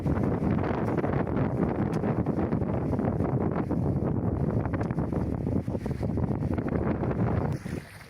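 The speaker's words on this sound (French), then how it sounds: "là il y a la masse de vent." Strong wind roars over the microphone aboard a sailboat crossing the sea channel between Martinique and Dominica, a loud continuous buffeting rumble mixed with the wash of water, easing slightly near the end, with no talking.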